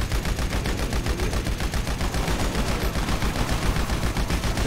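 Rapid, steady gunfire in GTA V Online: a dense, evenly spaced stream of sharp shots rattling continuously for several seconds, loud and close with no talk.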